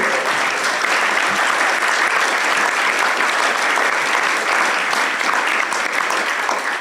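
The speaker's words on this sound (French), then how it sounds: "Franchement, bravo, on peut les applaudir." An audience at a round-table event on light, reversible housing gives sustained, even applause, a thick wash of many hands clapping steadily from start to finish with no voices on top.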